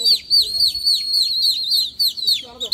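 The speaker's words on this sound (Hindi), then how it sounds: "वे इधर है कबूतर।" Pigeons kept by a pigeon fancier in Okhla, Delhi: a run of high, repeated chirping calls, close and fairly loud, with a brief lower sound near the end.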